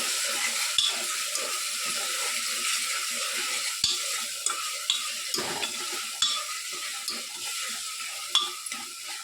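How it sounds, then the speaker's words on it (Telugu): Ginger paste sizzles steadily in a hot pan while cooking chicken haleem, a continuous close frying hiss punctuated by sharp clicks and scrapes of a spoon stirring. "ఈ అల్లం పేస్ట్ కొద్దిగా పచ్చి వాసన పోయేంత వరకు బాగా వేయించండి"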